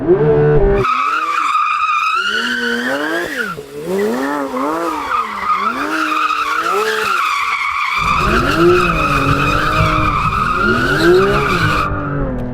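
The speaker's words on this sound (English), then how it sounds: "So it's got this feature where you can clutch kick it, so you pull in both pedals, floor it." A Porsche 911 launches with a clutch kick, its engine screaming as the tyres skid and squeal in long wavering tones, loud and close, with a short gap before the squeal resumes.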